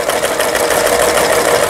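A Yamata FY812 home sewing machine running under repair testing, a loud steady rapid mechanical whir with fast regular stitching clatter, close up and continuous.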